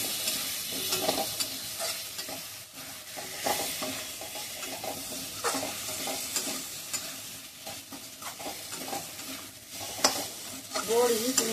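Potatoes stir-cooked in a pan give a continuous close sizzle broken by scraping spoon strokes and shuffling, steady and fairly loud throughout with no voices.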